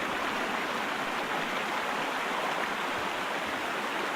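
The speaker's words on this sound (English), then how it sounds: "this water is pretty loud" Loud flowing water in a detective video game set in an old Roman city, a steady rushing hiss like a stream or waterfall, constant and close with no breaks.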